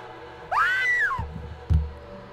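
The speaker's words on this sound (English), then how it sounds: "that was a woman's scream" A woman's scream in the Vampire: Bloodlines video game, one rising and falling shriek lasting under a second over a low droning background, followed by thuds.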